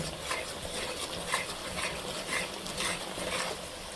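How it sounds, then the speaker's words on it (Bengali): Ground spices with turmeric, coriander and chili powder sautéed in oil in a pan for a hilsa, green banana and gourd dish, a dense close sizzle with rhythmic spoon scrapes, loud and continuous, with no talking. "বন্ধুরা, মশলাটা সুন্দর করে আমি কষাই নিচ্ছি।"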